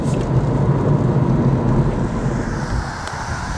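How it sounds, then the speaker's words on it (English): Steady rain hisses and patters in a dense wash of noise on a rainy Sunday drive arriving in Newark, continuous and fairly loud with rumbling low background. "And again, got raindrops."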